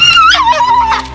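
Cranky dogs give a high, drawn-out whining yelp that rises and falls in pitch, loud and close in a single continuous cry of about a second with no talk.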